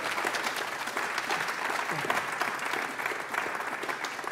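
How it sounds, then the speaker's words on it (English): Audience applause at a university honors day recital, a dense, steady clatter of many clapping hands lasting a few seconds at even loudness. "Let's give her a wonderful round of applause again."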